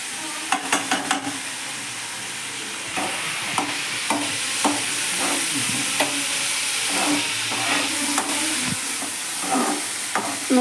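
Boiled cabbage and moong dal being stir-fried in a pan, a steady sizzle broken up by repeated scraping and clanking of a spatula against the metal at an irregular rhythm, close and fairly loud, with no voices.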